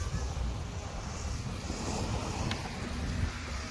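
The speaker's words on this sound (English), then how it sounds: "at least there's some breeze because it's close to the ocean" Ocean breeze blows near the shore on a hot day in Leyte, Philippines. Wind buffets the microphone in a constant low rush, with faint surf-like wash underneath and no talking.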